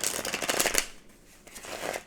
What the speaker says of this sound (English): I'm just going to do an old school shuffle.